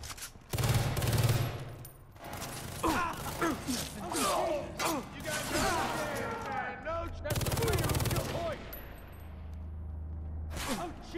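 Bursts of gunfire in the video game Far Cry 3 during a boss fight, rapid shots and volleys going off in clusters amid whooshes and mechanical clicks, with a voice briefly heard over the action.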